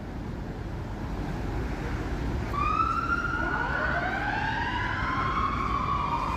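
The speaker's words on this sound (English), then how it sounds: "That was just an ambulance driving by," An ambulance siren wails steadily in the distance on a narrow street in Newport Beach, rising and falling as it passes, with constant traffic rumble underneath.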